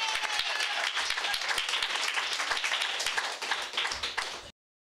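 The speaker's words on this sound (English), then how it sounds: "Let's give her a round of applause." A small audience at a national convention awards night gives a round of applause, distinct individual claps forming a lively patter that thins out and stops abruptly into silence.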